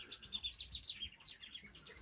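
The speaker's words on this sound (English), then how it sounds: "That bird there singing." A small bird sings in a finch aviary housing cut-throat finches and African silverbills, giving a quick, high, twittering phrase of close chirps and trills, fairly faint and without speech.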